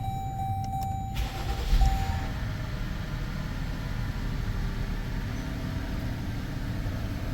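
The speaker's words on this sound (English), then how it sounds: "So let's start this up and see what happens." A car engine fires up after repair work and settles into a smooth, steady idle, a close, even low rumble that carries on without change after a brief starter whir at the beginning.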